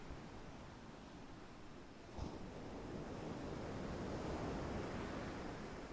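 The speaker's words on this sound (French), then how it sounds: "ces vagues viennent tapisser le sable ou les rochers" Sea waves breaking on sand and rocks, a soft continuous wash of surf with a gentle swell building toward the end, distant and calm with some wind.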